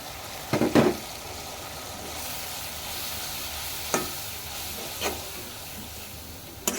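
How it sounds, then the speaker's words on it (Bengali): Mixed ground spices, coriander, chili, cumin, garam masala and turmeric, fry in oil in a pan with a continuous close sizzle, broken by a few sharp stirring scrapes and knocks of the utensil. "একসাথে দিয়ে ভালো করে দেখে ভালো করে কষাতে দেবো"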